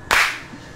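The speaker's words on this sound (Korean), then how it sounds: "박수를 쳐서 카메라 내 시작 위치를 같이 잡습니다." A single sharp hand clap, close and loud, marks the camera start and then fades quickly into quiet room tone.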